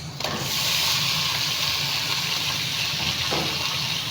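Pork hits a hot pan for adobo and sizzles loudly, a dense continuous frying hiss right up close with no talking over it.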